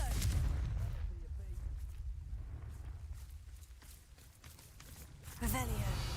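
Fiery spell blasts from the Confringo spell in the Hogwarts Legacy video game boom loudly at the start and again near the end, with rumbling battle noise between them.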